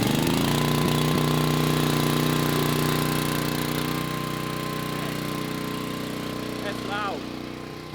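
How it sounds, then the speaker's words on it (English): A generator engine runs nearby with a steady, loud rumbling drone that eases slightly toward the end. "I'm just going to fire up the generator"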